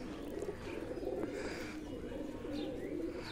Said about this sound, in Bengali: যতগুলি কবুতর উড়ায় না কেন, এই কবুতরটা সবার শেষে নামবে।